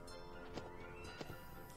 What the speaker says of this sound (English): Milla on a horse.